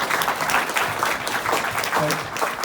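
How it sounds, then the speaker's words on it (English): Round of applause from a convention audience at a Space: 1999 fan gathering in London, dense steady clapping filling the room with a faint voice or two mixed in. "And yes, absolutely, give me a round of applause."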